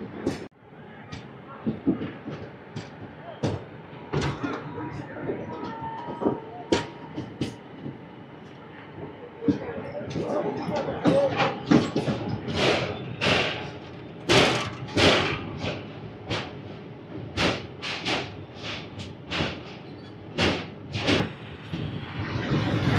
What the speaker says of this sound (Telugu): విజయవాడ స్టేషన్ నుంచి 8:40కి అయితే స్టార్ట్ అయింది మన ట్రైన్.